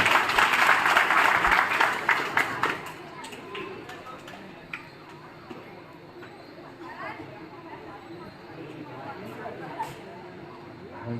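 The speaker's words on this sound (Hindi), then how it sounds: "जोरदार तालियों से स्वागत करें" An audience at a Ganesh festival gathering applauds to welcome a guest: loud clapping for the first few seconds that fades away, followed by quieter room noise with scattered knocks and faint background voices.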